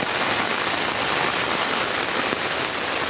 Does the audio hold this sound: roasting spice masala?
no